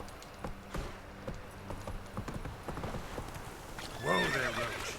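Roach, a horse in The Witcher 3, trots with a steady clip-clop of hooves, then lets out a short, loud neigh near the end, with faint game sounds in the background.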